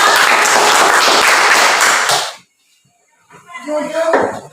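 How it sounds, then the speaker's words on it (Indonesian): Classroom students clap for the first presentation group, about two seconds of loud, close applause that stops abruptly, followed by a brief silence and then a voice speaking. "Oke, tepuk tangan dulu untuk kelompok"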